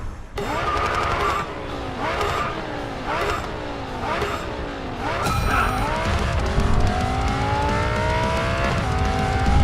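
Lamborghini Gallardo in the Racing Master video game screeching through drifts: a revving engine note rising and falling over steady tyre squeal in repeated sweeps, loud and close, with a talking voice underneath.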